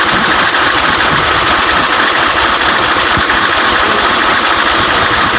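A car engine on an overheating car idles steadily, loud and close, a constant rumbling drone with a slight knocking texture and no voices.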